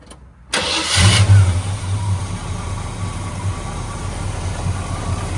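A 1973 Chevrolet C10 pickup's 350 V8 cranks and catches after a half-second of silence, then settles into a steady, deep idle with a low rumbling pulse close by, no voices present.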